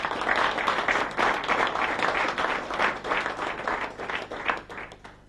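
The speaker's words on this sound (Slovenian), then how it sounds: "Mislim, da si ta zadetek zasluži poseben aplavz." Applause at a football awards show for the best headed goal of 2000, a dense steady crowd clapping that stays loud and continuous throughout, with individual claps swelling and fading slightly, no voices.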